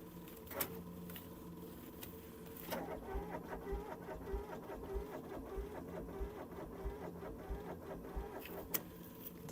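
An old Avant compact loader with a weak battery is cranked over in cold weather. The starter whirs faintly in uneven bursts with mechanical clicks and rattles but never settles into a running engine.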